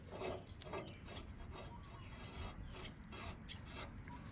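A die nut being worked over the threads of a train wagon coupling gives a quiet, repeated rasping and rubbing scrape, steady strokes close by against faint background noise.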